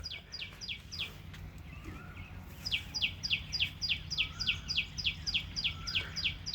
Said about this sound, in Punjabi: ਪੰਛੀ ਚਹਿਕ ਰਹੇ ਨੇ